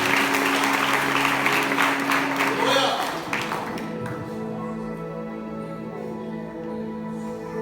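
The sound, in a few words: congregation applause welcoming preacher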